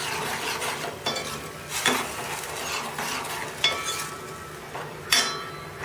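A spoon stirs chili and turmeric masala in a pan for a moru curry, giving a soft, continuous scraping sizzle with several sharper clinks of utensil against metal, close and unaccompanied by talk.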